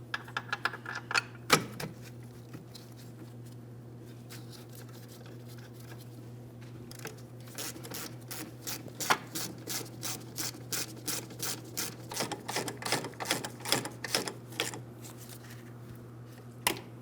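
Mounting bolts on a 2007-2014 Ford Edge parking brake being started and snugged up by hand, a run of quick metallic clicks and ratcheting ticks over a low steady hum, close and fairly faint.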